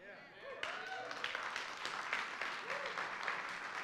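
A church congregation bursts into applause during a sermon, the clapping starting abruptly and carrying on steadily with scattered louder claps while a voice continues over it.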